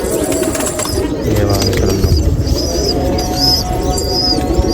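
Gauran pigeons in a Nashik loft, with soft cooing and chirping continuing throughout under steady background noise and some voices.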